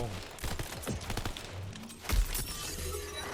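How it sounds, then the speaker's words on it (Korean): Gunfire in Tiny Tina's Wonderlands, with scattered sharp shots and a heavier crash among them, mid-level and mixed under Korean talk. "좀 숨어서 쏘세요 숨어서"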